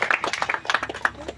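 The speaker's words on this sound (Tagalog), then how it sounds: "Malakas na palakpak." Wedding guests at an entourage ceremony applaud with a brisk, uneven patter of many hands clapping, fairly close and loud throughout.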